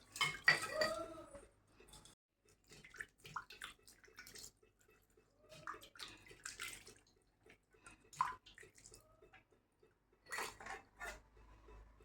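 A tarnished, green-stained copper vessel is scrubbed by hand. Intermittent close scraping and rubbing bursts come with faint water and clinks of metal between pauses.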